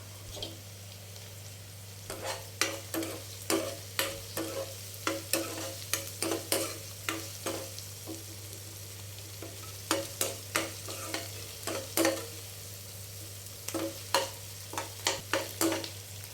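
Onions sizzle and fry with salt in a pan for a quick tomato curry, with a steady hiss beneath repeated sharp scraping stirs that come in quick irregular bursts throughout.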